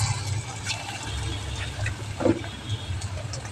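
Pakoras drop into hot mustard oil in a wok and fry with a steady, close sizzling hiss that holds throughout.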